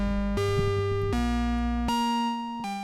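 Guitar run through a Maneco Labs Clusterverb reverb pedal, a slow sequence of sustained notes stepping through five pitches, each ringing into the next with a lush wash, loud and alone.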